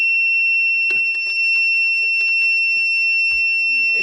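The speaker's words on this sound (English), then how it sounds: "The inverter's just tripping out now, it's had enough." An inverter overload alarm in a self-built campervan's electrics sounds as a loud, steady high-pitched electronic tone that holds throughout, with faint handling clicks and knocks underneath.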